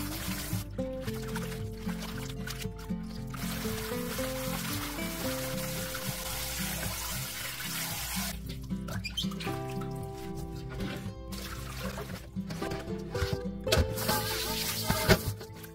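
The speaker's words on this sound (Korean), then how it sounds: "다듬어진 열무와 얼갈이는 여러 번 씻어 흙이나 이물질을 완전히 제거해주세요" Trimmed young radish and cabbage are rinsed in water, with continuous splashing and trickling sloshes close by over soft background music.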